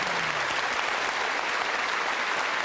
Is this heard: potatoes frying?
no